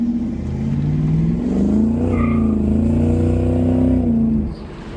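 A Ford Mustang SN95 running an E65 ethanol blend accelerates hard, its engine note climbing steadily and loud for about four seconds before dropping off.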